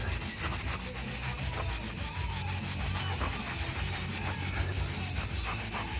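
Old paint is rubbed off a surface with sandless paint stripper, a steady, close, rhythmic scrubbing of quick repeated strokes with no talk.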